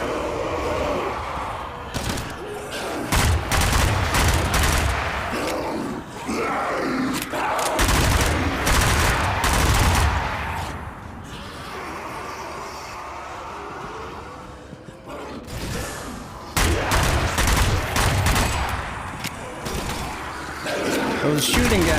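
Heavy gunfire from enemy shooters in the video game Zombie Army, loud and nearly continuous in dense bursts and booms, with a voice talking over parts of it.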